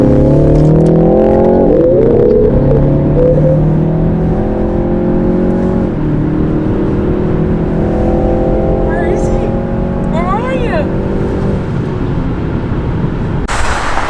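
A BMW 330i and a BMW X3 M40d accelerate hard in a rolling race, engines loud and close with rising revs, several gear-change dips and wind roar, while people talk over the noise.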